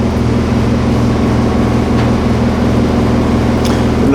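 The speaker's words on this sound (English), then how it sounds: "The noise you're hearing right now is the heater because it's winter." A heater running in a garage in winter gives a steady, loud, droning hum with a low mechanical rumble that holds level the whole time, with no talking.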